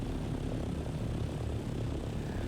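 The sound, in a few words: aircraft flying in video game Dune: Awakening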